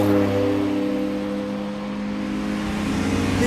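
A road-legal Porsche 962 Group C race car drives on a main road in sub-zero cold, its engine a steady, loud, low-pitched drone heard from on board with a slight swell and dip.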